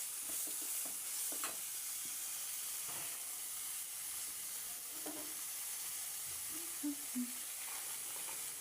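Turmeric powder frying in coconut oil for biriyani, a soft steady sizzle and hiss throughout, with occasional light stirring scrapes and faint background voices.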